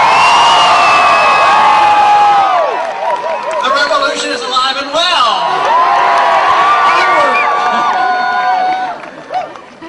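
Large campus crowd at a political rally at Chico State University in California, cheering, whooping and shouting loudly in a sustained roar that fades toward the end, with a voice speaking over it.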